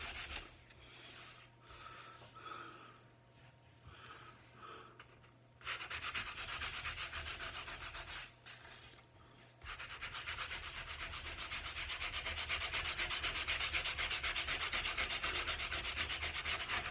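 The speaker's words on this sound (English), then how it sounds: "I think it'd be easier just to sand it." Wood on a dining table is sanded in long, rough rubbing strokes. The sound starts in short bursts, then becomes a loud, steady scrape after a brief pause.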